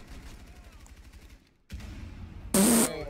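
Bursts of automatic gunfire in Rainbow Six Siege, a rattling rapid volley that stops briefly then returns louder, ending in a sharp blast, heard alongside players talking.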